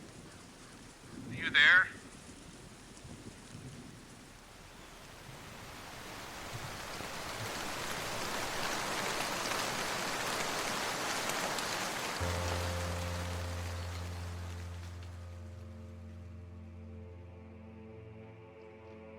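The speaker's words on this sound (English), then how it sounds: "The rain!" Steady rain hissing down as a broad, even wash that swells and lingers, with a single voice speaking briefly early on and a low humming tone entering toward the end.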